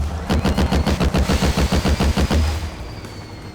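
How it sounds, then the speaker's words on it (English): A stuff launcher in the video game SMOD fires objects in a rapid, evenly spaced burst of loud, punchy shots about a dozen times, then the echo trails off and fades. "You have a stuff launcher that allows you to pick up anything and launch it out of your rocket launcher"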